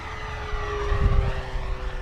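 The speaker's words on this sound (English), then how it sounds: "I think it's that 650 kV motor that gives it so much speed and power." An FMS T-28 RC airplane with a 650 kV electric motor flies past with a steady, loud propeller whine and a rising, swelling drone at mid-pass, with no talking.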